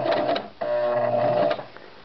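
A sewing machine stitches a messenger bag gusset in two short close bursts of steady mechanical whirring with a brief pause between.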